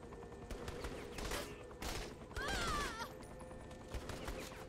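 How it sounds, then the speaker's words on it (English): Gunfire from the video game Saints Row: The Third, a few bursts of rapid shots spaced across the moment, mixed with game sound effects and a short whistling tone, fairly quiet overall. "This gun ain't great."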